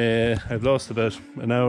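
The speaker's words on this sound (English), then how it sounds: "You can probably hear them bawling in the background." Cattle bawling in the background at feeding time, loud repeated moos with harmonic calls filling most of the moment, with a voice speaking briefly over them.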